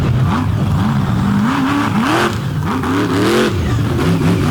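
An ailing monster truck engine revs hard through mud and rain at a swamp racing show. The pitch climbs and falls in repeated surges over a constant loud roar, with no voices.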